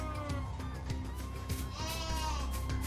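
Sheep bleat in the video game Final Fantasy XIII-2, a few wavering, nasal calls overlapping one another at moderate volume over a low steady game background, with no talking.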